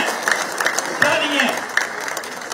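A rally audience applauds in a burst of dense clapping, with a speaker's voice carrying over it.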